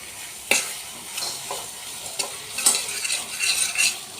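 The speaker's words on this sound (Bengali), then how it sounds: "বাটাটা এবার তেলের মধ্যে নাড়িয়ে নাড়িয়ে শুকনো করে তুলব" Pointed gourd paste fries in oil while being stirred, a close, steady sizzle broken by repeated scraping strokes of a spatula against the pan.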